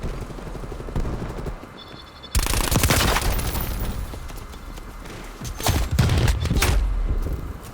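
Rapid bursts of automatic gunfire from an MP5 in Call of Duty Black Ops Cold War, loud sharp volleys breaking out after a quieter start and returning in a second cluster near the end.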